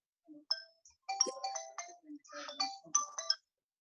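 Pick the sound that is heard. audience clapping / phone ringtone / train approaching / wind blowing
phone ringtone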